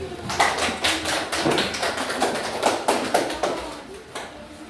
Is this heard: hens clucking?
no